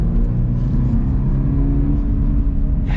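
The engine of a 2024 Toyota 86 Trueno Edition hums loudly and steadily from inside the cabin during track driving, giving a sustained drone with some whir and no talk.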